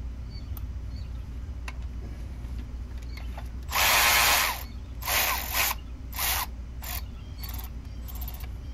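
Power tool or ratchet backing out a 10 mm bolt that holds a clip and wiring harness on a 2007-2012 Acura RDX engine during a valve cover gasket job: a loud whir followed by several shorter bursts, close by, with no talking.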